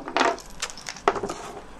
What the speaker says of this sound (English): I'll use my scissors this time.